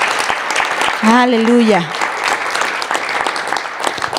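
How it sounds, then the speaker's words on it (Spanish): A church congregation claps loudly and continuously through the whole stretch, dense overlapping applause, while a voice calls out a sung exclamation over it partway through. "Y dé un fuerte aplauso al Rey de Reyes y Señor de Señores."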